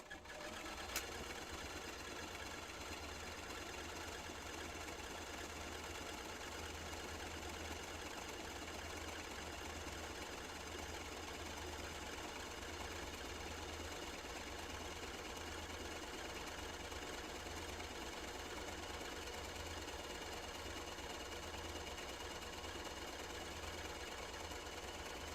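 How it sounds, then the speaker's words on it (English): A sewing machine stitches steadily down the center of fabric with frayed edges on both sides, a continuous close, even mechanical whir with no pause or voices. "So we're going to do a little sewing right down the center."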